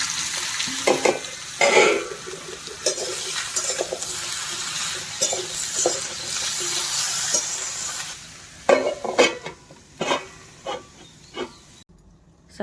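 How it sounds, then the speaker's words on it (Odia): Vegetables and dry chilies fry in hot oil with a steady crackling sizzle, broken by scraping stir strokes against the pan; the frying fades near the end, leaving a few louder utensil knocks. "ତେଲ ତ ଗରମ ହେଇଗଲାଣି, ଫୁଟଣ ଆଉ ଶୁଖିଲା ଲଙ୍କା ଦେଇଦେବି। ପରିବା ଦେଇଦେବି"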